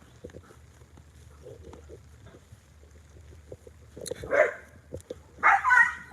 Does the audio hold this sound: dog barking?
yes